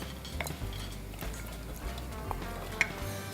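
Spring onion and green pepper sizzle steadily in a hot pan, a close, continuous frying hiss broken by a few faint clicks and stirring scrapes.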